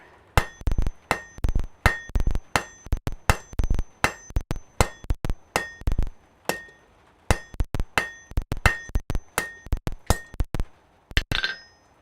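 A hammer strikes hot steel on an anvil while forging a reverse taper, ringing blows coming in quick rhythmic runs with bright metallic pings, close and loud, each strike decaying briefly before the next.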